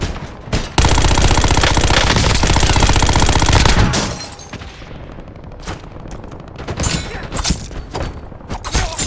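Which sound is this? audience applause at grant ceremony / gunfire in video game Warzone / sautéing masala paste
gunfire in video game Warzone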